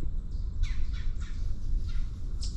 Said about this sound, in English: That's probably a bird.